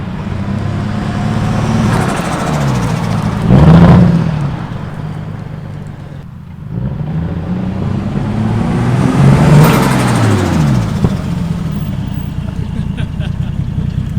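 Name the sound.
Toyota Supra engine running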